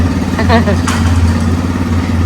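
A Royal Enfield Bullet motorcycle engine runs steadily nearby with a low, even thump, while people talk over it.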